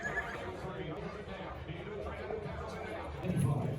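Horses whinny at the pre-parade ring of a horse sale, where they are walked while waiting their turn; the neighs come amid hoof clops, low background chatter and voices, with a louder stretch near the end.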